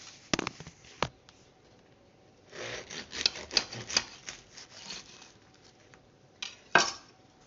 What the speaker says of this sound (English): Let's take it off the cooling rack, pop it on the bread thing, and I'll cut a slice.